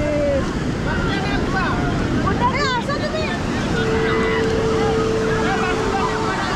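Sea waves washing ashore on Puri beach, a continuous roar of surf mixed with wind buffeting the microphone, while people talk nearby and a brief whistle-like tone rises.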